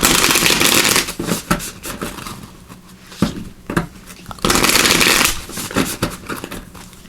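Oracle cards of a Seeker Oracle deck being shuffled by hand in bursts of crisp riffling flutters, a long run at the start and another after a pause, close and alone with no talk.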